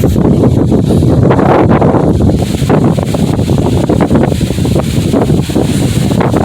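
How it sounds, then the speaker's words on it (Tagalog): Strong, gusting wind sweeps across open rice paddies in the dry, hot season, a steady loud broadband roar buffeting close on the microphone with rustling throughout and no voices. "Medyo lumalakas na yung hangin."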